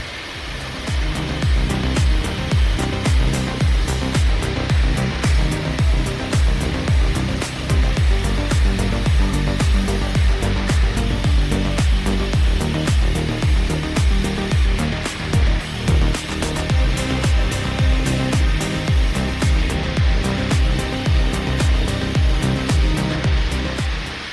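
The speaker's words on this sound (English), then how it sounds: "the machine adjusts the cutting angle to rip the log lengthwise, producing boards of various widths" A sawmill machine rips a log lengthwise into boards of various widths, a loud continuous grinding roar with rapid repeating cutting pulses that holds steady throughout, with no talk.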